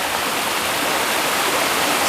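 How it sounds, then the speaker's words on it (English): A waterfall along a short winter hike at Wildcat Wayside, a steady, even rush of falling water heard alone at moderate distance with no voices. "I feel like the waterfall has been bigger at times when I've been here before."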